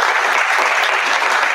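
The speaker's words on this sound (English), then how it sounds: "Let's give Ryan a big round of applause." A live audience at an interview event gives a dense, loud round of applause, continuous clapping throughout with no speech.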